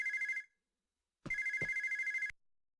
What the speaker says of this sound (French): Le téléphone sonne, tiens ça faisait longtemps